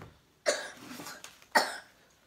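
A small child coughs twice, close by: two short, harsh bursts about a second apart, each trailing off into breathy rasp, with no talking over them.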